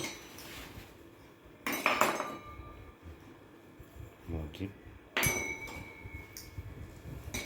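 Small bowls clink against each other while each is greased with oil for baking nutritious biscuits from an anganwadi Balshakti packet; two sharp clinks stand out amid softer handling noises, with a voice talking throughout.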